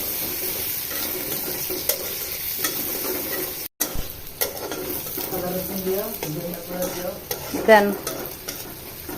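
Onion and bottle gourd fry in hot oil while a utensil stirs them, giving a steady sizzle with scraping strokes throughout; a voice speaks briefly near the end.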